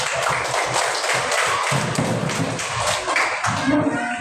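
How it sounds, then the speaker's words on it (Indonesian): A primary classroom of children claps for the winning groups of a team games tournament: dense, close, irregular hand claps and taps that carry on steadily and thin out near the end. "Ayo tepuk tangan."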